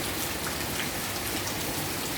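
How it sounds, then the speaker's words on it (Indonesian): Sudden heavy afternoon downpour over a residential housing complex, a loud, continuous wash of dense rain striking surfaces, close and unbroken throughout, with no voices. "sore ini menjelang asar tiba-tiba hujan keras sekali"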